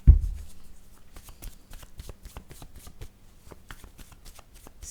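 Oracle cards shuffled by hand for a word-card draw, a close, steady run of quick papery riffles and flicks after an initial thump, with no talking.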